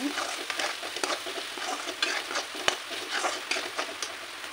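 Chicken masala powder frying in oil in a pan while being stirred, a steady close sizzle broken by scraping strokes of the spoon, with no one speaking.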